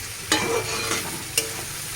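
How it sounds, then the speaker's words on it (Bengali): Potatoes and pointed gourd frying in oil in a wok, a steady sizzle broken by three sharp scrapes of stirring spread across two seconds, close up, with no speech. "তেল গরম হলে আলু আর পটল ভাজা করব। তো এদিকে ভাজা বসিয়ে দিয়েছি, দেখতেই পাচ্ছি। নাড়াচ্ছি, ভাজাটা করছি।"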